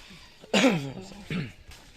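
A short, harsh cough bursts out at close range, followed a moment later by a second, weaker cough.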